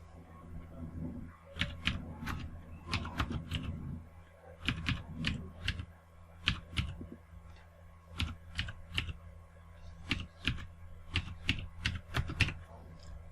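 Keys clatter on a computer keyboard as a transaction number is typed, in quick bursts of crisp clicks separated by short pauses, close and fairly quiet.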